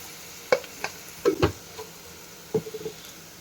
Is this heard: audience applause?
no